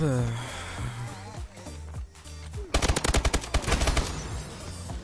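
Bursts of gunfire ring out in a first-person shooter game, first scattered shots and then a rapid rattling volley. Someone talks over parts of it.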